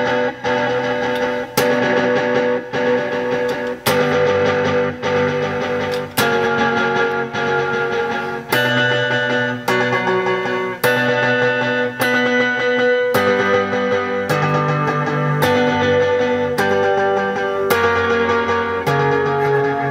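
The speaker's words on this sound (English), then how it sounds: "the original signal was drowning in this reverb delay type sound" An electric guitar plays chords through a Meris Polymoon delay pedal, drenched in heavy reverb and echoing delay, the repeats washing together into a continuous shimmering sound.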